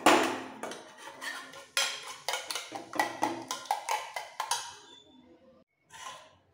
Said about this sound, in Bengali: এবার খুব ভালো করে একটু ফেটিয়ে নেব।